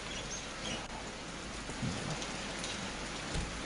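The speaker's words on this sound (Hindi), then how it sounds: "ये बनिहाल की तस्वीरें हैं, बारिश इस इलाके के अंदर भी" Heavy rain falls in Banihal with a steady, dense patter and hiss. A few faint low thumps sit under the downpour.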